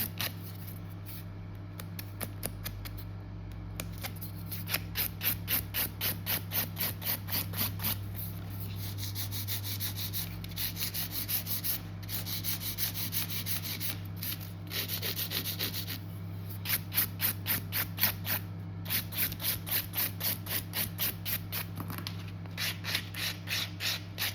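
Acrylic nails being filed: quick rhythmic rasping strokes in bursts, close and fairly faint over a steady low electrical hum, no talk.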